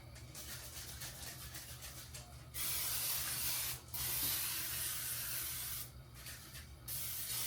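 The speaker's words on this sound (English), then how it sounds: "I'm just using this 0-calorie butter flavored spray." Butter-flavored zero-calorie cooking spray hisses from an aerosol can in several bursts, a close, steady spray with short pauses between them.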